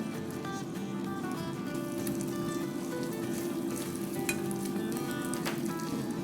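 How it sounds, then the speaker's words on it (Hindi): Steady, close sizzling of ginger garlic paste frying in melted butter, a continuous crackle with faint stirring scrapes and no talking. "हमारा बटर मेल्ट हो गया है, साथ साथ जिंजर गार्लिक भी फ्राई हो गया है।"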